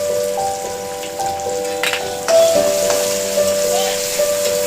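Ginger, garlic and coriander paste sizzles in a hot pan with tomato, onion and bay leaf, a steady loud frying hiss with a few sharper crackles, with no talk.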